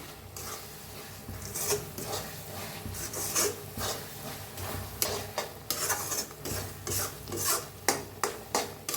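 Powdered cardamom and sugar being stirred into a sweet filling for fried modak, with continuous rasping, scraping strokes that quicken into rhythmic pulses near the end.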